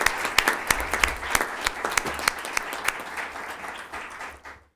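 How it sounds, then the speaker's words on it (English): Board of education meeting audience applauding, many hands clapping at an even pace with distinct sharp claps standing out, fading away toward the end. "Can we give Alvin a round of applause?"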